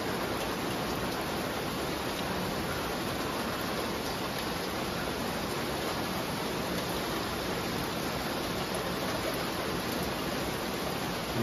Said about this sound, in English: You hear that rain on my metal roof?